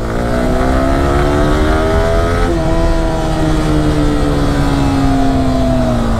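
A Yamaha R15 v3 motorcycle engine revs loud and close, a steady droning exhaust note with a brief dip partway through before climbing again, with no talking.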